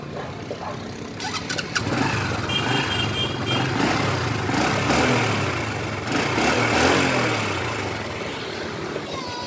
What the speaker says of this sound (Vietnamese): Mình sẽ nổ máy cho anh em nghe thử ạ.